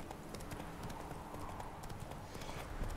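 Roach the horse in The Witcher 3 video game trots with a steady clip-clop of hooves, close and continuous at a moderate, even rhythm.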